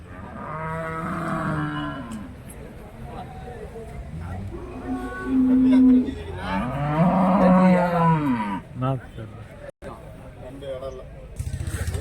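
Buffaloes and cattle at the Bagalur livestock market low and moo repeatedly, several long calls close by, with someone talking in between.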